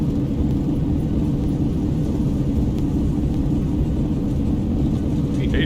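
Boeing 737 thrust reversers roaring on landing in the X-Plane 11 flight simulator, a steady dense low rumble that holds loud and unbroken throughout, with no distinct events over the broad engine noise.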